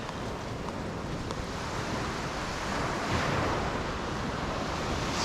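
Ocean surf breaks steadily at a beach in Pattaya, Thailand, a loud, continuous broadband wash with some buffeting wind on the microphone and no voices.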